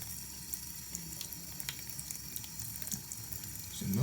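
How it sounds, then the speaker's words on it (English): Tap water running over a scratched disc being rinsed at a sink, a steady, faint splashing stream with small spatters throughout, growing louder at the very end. "Now you see how I'm rinsing it off?"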